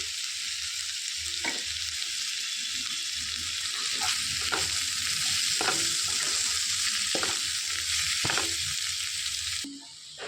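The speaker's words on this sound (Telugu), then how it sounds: "ఒక రెండు సెకండ్ల పాటు మనకు వేయించుకోవాలి" Spices fry in oil in a pan for bitter gourd (kakarakaya) fry, with a steady loud sizzle and a few sharp scraping stirs spread across the clip. The sizzle drops away abruptly near the end.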